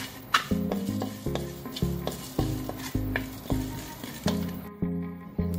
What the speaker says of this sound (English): Let's now dry roast the fennel seeds and the coconut.